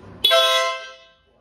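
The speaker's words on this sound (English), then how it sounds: "That's a rather loud horn." A single loud horn blast from a Honda CRF1100 Africa Twin motorcycle sounds close by, starting abruptly and fading out over about a second.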